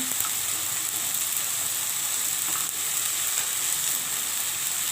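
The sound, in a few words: chili paste frying in mustard oil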